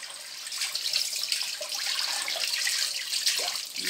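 Tap water runs steadily over salted smoked trout as it is rinsed in a sink, a close, continuous hissing splash with faint shifts as the fish moves under the stream, no voices.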